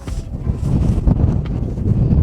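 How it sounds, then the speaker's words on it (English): Gusty wind buffets the microphone at the Quilotoa crater lake overlook in Ecuador, a dry, ash-dusted volcanic rim, giving a loud, rumbling roar that surges and dips over a couple of seconds. "Got lots of wind here."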